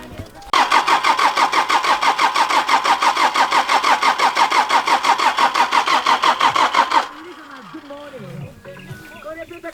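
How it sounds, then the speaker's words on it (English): A parked car in Kenya that had run out of fuel cranks for about seven seconds, its starter churning loudly in a fast, steady rhythm without catching. It then cuts off abruptly and people's voices follow. "We have parked and the car's not starting."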